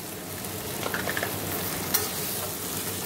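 A pan of desi chicken curry sizzles steadily after sugar is added, with a few light stirring scrapes over a constant close hiss.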